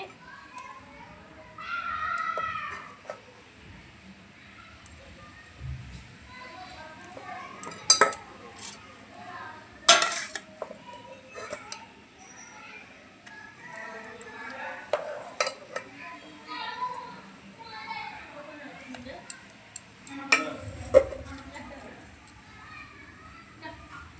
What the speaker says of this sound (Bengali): এখন আপনাদের দাদা আর আমার জন্য ভাত বেড়ে নিচ্ছি